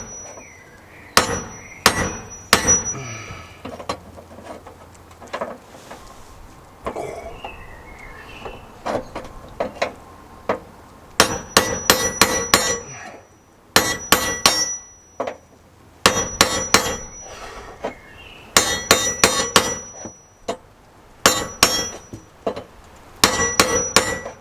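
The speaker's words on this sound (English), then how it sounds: "let's have a ganders with this hammer" A hand hammer strikes repeatedly in quick clustered bursts of loud, ringing metallic blows, with short pauses between volleys and no talking.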